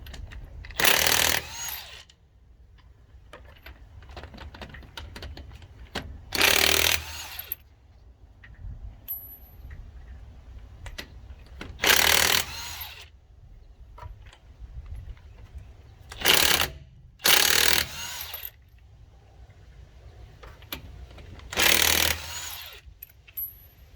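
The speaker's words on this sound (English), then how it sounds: "So you remove all your lug nuts." Lug nuts come off a wheel of a 1998 K1500 truck, likely with an impact wrench, heard as about six loud, short bursts spread through the clip with quiet handling sounds between.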